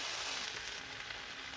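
Chana frying in a pan with salt and cumin, giving a steady, close, broadband sizzle that holds evenly throughout with no talk.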